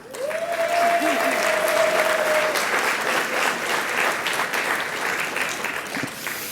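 Applause and cheering from table one at an awards ceremony, a sustained burst of crowd clapping filling a hall, with a brief whistle-like tone early on, easing slightly toward the end as a voice briefly speaks.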